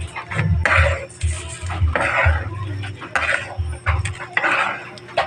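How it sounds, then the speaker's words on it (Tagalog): A utensil scrapes and clatters around a cooking pan in repeated bursts of stirring tomatoes with chicken egg, close by, with brief pauses between strokes. "Haluin natin uli."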